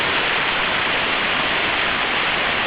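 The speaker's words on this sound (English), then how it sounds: "I never get sick of the sound of running water." Running water tumbling over the Victoria Creek cascades in the Grose Valley, a loud, close, unbroken rushing roar that stays steady throughout.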